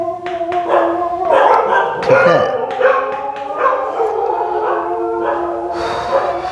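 A dog barks and howls nearby in a series of loud, drawn-out yowls and sharp barks that run on for several seconds, with a voice speaking briefly among them.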